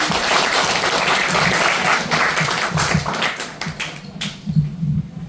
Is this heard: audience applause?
yes